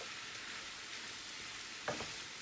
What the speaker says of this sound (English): make sure you really stir that rice in and get it covered